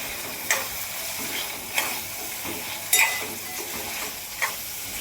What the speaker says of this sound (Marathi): परतून घेऊ सगळा मसाला लागला पाहिजे या पद्धतीनं